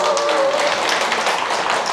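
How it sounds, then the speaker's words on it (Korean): Applause from a church congregation at a lay ministry training session, a dense steady patter of many hands clapping close by, filling the whole moment without voices. "박수 쳐주세요"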